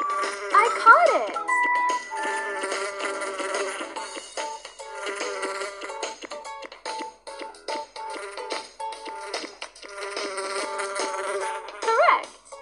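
Cartoon bee buzzing in a children's alphabet-learning game, a high wavering drone that comes and goes over about twelve seconds with short chimes and game jingles.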